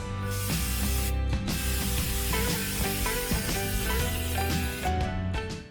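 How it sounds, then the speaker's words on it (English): Krylon EasyTac repositionable spray adhesive is sprayed heavily onto a print in a steady, close hissing stream with a few brief pauses, over faint background music. "I have this EasyTac Krylon. It's a repositionable spray."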